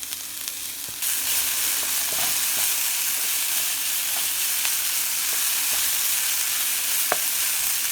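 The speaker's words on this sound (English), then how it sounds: "So just frying it up with some coconut oil." Steady sizzling of onions frying in coconut oil, a constant crackling hiss with occasional louder pops, close up and without talk.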